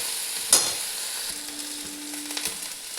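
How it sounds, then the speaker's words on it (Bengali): Ginger garlic paste frying with browned onions in a pan, a constant bright sizzle with a sharp spitting burst as the paste goes in and a few light stirring knocks. "এরপরে আমি দিয়ে দিচ্ছি একদম একটু আদা রসুনের পেস্ট"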